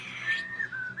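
An attempted whistle by a bartender, a thin wavering airy tone that breaks and wobbles without holding a clean pitch, close and alone for about a second.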